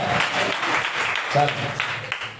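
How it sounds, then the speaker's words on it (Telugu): A church congregation claps loudly and in unison, a dense burst of hand claps running throughout while someone speaks over it. "చప్పట్లు ఎంత గట్టి కొడుతున్నారో, ఎంత శబ్దం వస్తుందండి కదా"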